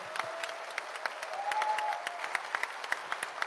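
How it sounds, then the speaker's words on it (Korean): An audience applauds a former president after a talk at a Korean memoir book event, a steady wash of clapping from a seated crowd with a few sharper claps standing out, moderately distant and fairly even throughout. "감사의 말씀, 감사의 박수 부탁드리겠습니다"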